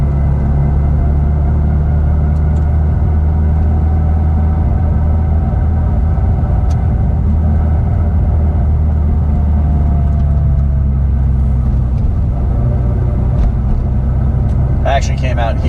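Road traffic near Puritan Drive heard from a running course: a steady, loud low rumble of passing cars fills the whole stretch, with faint voices mixed in and a brief higher sound at the very end.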